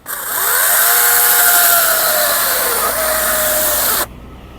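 A ProCraft PCA40/2 cordless chainsaw whines loudly at high speed while cutting through wood for about four seconds, then cuts off abruptly.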